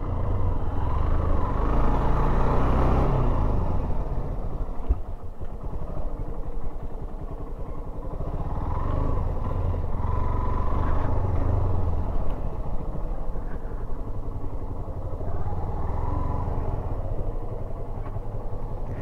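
A motorcycle engine runs nearby with a continuous low rumble and clatter, rising and easing slightly over time with no speech.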